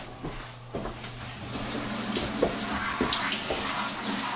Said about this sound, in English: So you want to go ahead and start just washing them with water